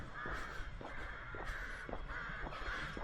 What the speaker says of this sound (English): Also a lot of crows.